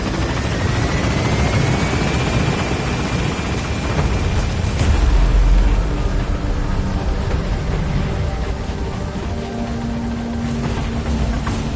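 A helicopter in the Metal Gear Solid 5 video game gains altitude, its rotor wash a loud, steady roar throughout, with a rising whine early and a heavier rumbling swell near the middle.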